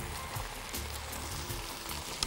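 Eggs frying in a pan of shakshuka give a steady close sizzle with faint crackling and no pauses.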